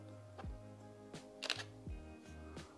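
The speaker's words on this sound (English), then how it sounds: "I don't know if I like that shutter sound." Several Fujifilm X-E4 camera shutter clicks sound up close, spaced unevenly over a few seconds, each a short mechanical snap with a faint motor whir.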